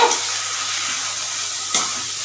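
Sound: stirring spiny gourd with green chillies frying in pan

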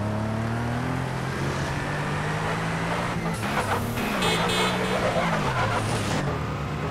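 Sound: Infernus sports car skidding in GTA San Andreas video game

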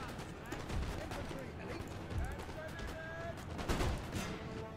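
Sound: musket shot barrage in video game Napoleon Total War

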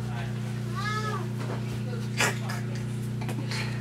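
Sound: cat meowing

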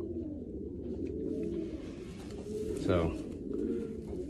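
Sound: racing pigeon cooing

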